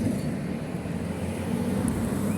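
Cars passing on a road near a countryside hiking route, a steady rumbling wash of traffic noise at moderate distance with no pauses.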